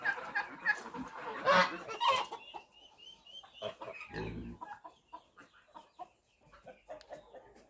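Geese and turkey poults on a farm give a burst of loud clucking and squawking calls, then scattered softer calls follow, fairly close by.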